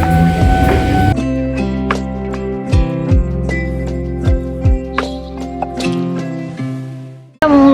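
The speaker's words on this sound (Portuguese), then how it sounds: "É um lugar cheio de trem, tem trem aqui." A train running through a station in Japan's Osaka–Kyoto area, with a steady electric motor hum whose tones shift in pitch as it moves, plus a few clanks, and then a sudden cutoff near the end.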